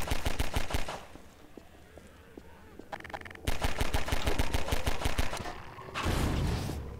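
Rapid bursts of automatic gunfire in the Half-Life 2 Synergy co-op mod, loud and near, with a short pause before the shooting resumes in longer stretches; no talking is heard.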